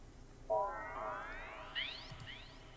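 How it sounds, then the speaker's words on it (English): A squelchy, laser-like 303-style synth sound with rising, ring-modulated sweeps, firing twice in quick succession with a bright zap on the second. "you get a cool spaceship laser squelchy 303 thing"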